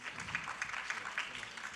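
An audience at a county board of supervisors meeting claps briefly, a soft scattered patter of hands heard from a distance in a large room.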